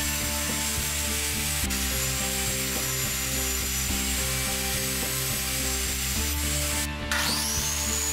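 Saw ripping a cedar fence picket lengthwise into strips 2.5 inches wide, a loud continuous close-up grinding drone with a rhythmic mechanical hum beneath and a brief dip near the end.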